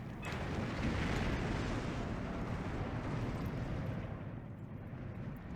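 Heavy bomb explosions from the Steel Division 2 strategy game, a continuous loud rumbling roar of overlapping blasts that holds steady and slowly eases off near the end.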